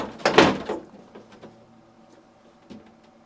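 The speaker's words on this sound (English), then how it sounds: "To install the lower drawer, insert it at an angle, making sure it sits beneath the support glide rail." A lower freezer drawer on a GE refrigerator, part WR21X10249, being angled onto its support glide rail: one loud plastic clunk that scrapes and rattles, then fades into softer taps and a final light knock.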